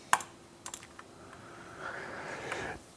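A computer keyboard is used while operating a Book2net Cobra book scanner: a few sharp key clicks, then a softer stretch of typing, close by with no talking.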